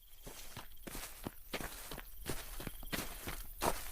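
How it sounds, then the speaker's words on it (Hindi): Steady footsteps crunch along a forest path in a horror story, about a dozen evenly spaced steps walking close by, with no talk over them. "पीछे से किसी के पैरों की आवाज आने लगी।"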